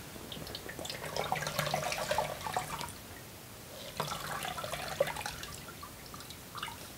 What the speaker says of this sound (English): I'm gonna wring it out.